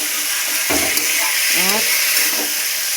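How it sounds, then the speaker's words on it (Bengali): Meat with tomato, bay leaf, turmeric and salt fries in a pan with a steady close hiss, broken by a couple of short scraping stirs and faint voice-like sounds. "এবার মাংস নাড়াচাড়া করে মাংস এরম নাড়াচাড়া করব।"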